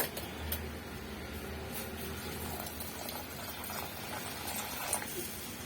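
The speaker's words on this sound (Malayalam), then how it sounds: "ഇനി ഇതിലേക്ക് നമുക്ക് ചൂടുവെള്ളം ഒഴിക്കാം" Hot water poured into a pan of cooked-down tomato masala for a prawn curry with kudampuli, a steady liquid pour and bubbling running throughout at moderate level, with no talk.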